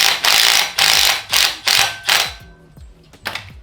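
A hand ratchet runs bolts into an LS V8 engine being prepared for a Miata swap. It gives about six loud, close, rhythmic bursts of rapid clicking, with a short pause before the last one.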